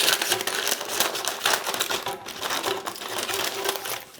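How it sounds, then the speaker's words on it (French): Scissors snip and crinkle through parchment paper clipped around a cake tin, a close run of quick crisp cuts and rustles with no talking. "je viens prendre une paire de ciseaux. Et je vais venir découper le pourtour du moule"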